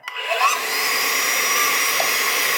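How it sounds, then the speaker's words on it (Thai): Vacuum cleaner spinning up and then holding a steady, loud whine while sucking dust from the filter of a Samsung DV90N heat pump clothes dryer, heard alone without talk. "ใช้เครื่องดูดฝุ่นเลยอ่ะเนี่ย"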